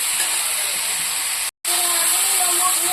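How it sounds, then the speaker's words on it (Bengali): Spices such as bay leaf, ginger, green chilli, cumin and turmeric frying in hot oil in a pan, a steady loud hiss and sizzle that cuts out briefly in the middle and then resumes. "দেখুন বন্ধুরা, মশলাটা আমার ভাজা ভাজা ভাজা হচ্ছে।"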